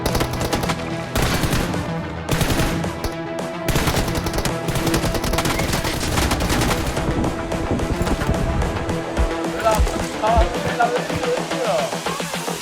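Rapid bursts of video game gunfire crackle loudly and almost nonstop, with brief pauses between volleys and a dense mix of game sounds underneath.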